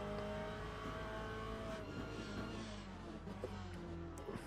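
A race car in the Le Mans Ultimate sim at Silverstone drones steadily with a metallic rattle from a part that is not bolted down, with faint engine pitch shifts and a few small knocks near the end.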